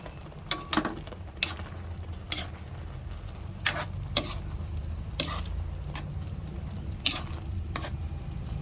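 Food cooking for lunch in a pan, a low steady sizzle broken by a string of sharp, separate clinks and scrapes as a utensil stirs and knocks against the pan, heard alone with no talking.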